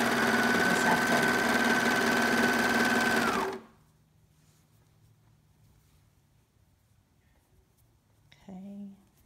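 Sewing machine stitching a sleeve onto a soft, floppy-fabric biblical costume, running loud and steady for about three and a half seconds, then stopping to near silence before a short faint sound near the end.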